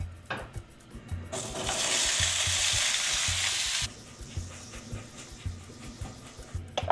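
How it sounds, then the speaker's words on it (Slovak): Precooked potatoes hit hot oil in a preheated pan with a burst of frying sizzle that lasts a few seconds. A softer sizzle follows, broken by scraping and stirring knocks, and no one speaks. "Na tejto panvici si pripravím zemiaky. Je už rozohriatá, pridám olej."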